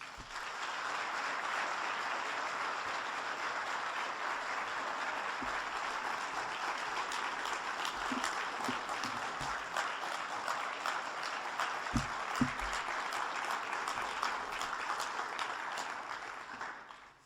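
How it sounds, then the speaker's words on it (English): An audience at a church and community lecture gives sustained, steady applause for about seventeen seconds, a dense, even wash of clapping that fades at the end. "join me with a robust round of applause"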